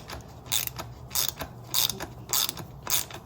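A pass-through socket set ratchets loose the strut nut on a 2017-plus Toyota Camry coilover, giving five evenly spaced bursts of sharp metallic clicking, close and clear with no talking.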